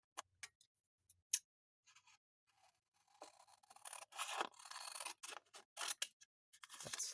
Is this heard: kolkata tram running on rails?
no